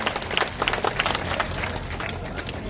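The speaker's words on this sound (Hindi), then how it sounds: "मैं यहाँ पर भव्य और जोरदार ताली बजाकर सभी से कहूंगा उनका स्वागत करें" A crowd at a public political rally applauds, dense continuous clapping that sounds large and fairly loud.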